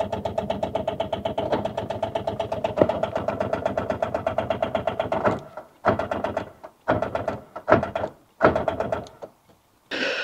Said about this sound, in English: see if that crank pulley moves when I give it a little dodge on the starter motor